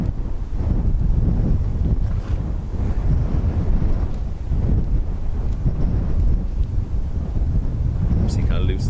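Gusty wind at Dublin Airport with gusts around 23 knots buffets the microphone, a loud, rumbling roar that surges and eases continuously over nine seconds, with faint sounds in the background near the end.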